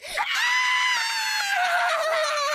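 Fans screaming at a boy band, a loud sustained chorus of high-pitched shrieks that holds steady close up for the whole stretch.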